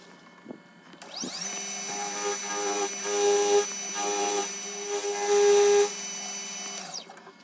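A milling machine cuts a square notch into an engine governor weight, a sustained tonal whine that starts abruptly, grinds louder with rising chatter in two bursts, then winds down as the spindle stops.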